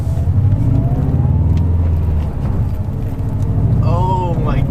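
A 2018-2020 Subaru STI with a Cobb Stage 1 short shifter drives on a test run, its engine a loud, steady, low drone from inside the cabin. A voice exclaims near the end.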